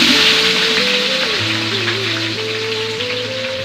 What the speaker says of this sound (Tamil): கஸ்தூரி மேத்தி லைட்டாக இந்த மாதிரி கொஞ்சம் பொரிஞ்சோனும்